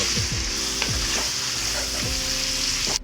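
Octopus and other ingredients lightly sauteing in hot oil for pork and octopus udon give a steady, loud sizzle, with a few sharp stirring scrapes and spatters cutting through at intervals.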